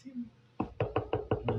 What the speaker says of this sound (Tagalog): Kumakatok.